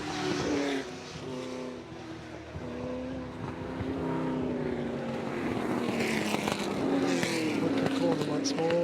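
Ford GT40 race cars lapping the Goodwood Revival circuit during the Whitsun Trophy, engines droning loud and continuous, swelling as cars pass, with a commentator talking throughout.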